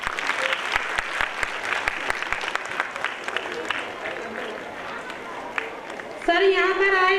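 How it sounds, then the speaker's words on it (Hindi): Applause from a school annual gathering audience welcoming a visiting guest, steady crowd clapping for about six seconds, then a voice cuts in near the end over fading claps. "जोरदार तालियों से उनका स्वागत कीजिए।"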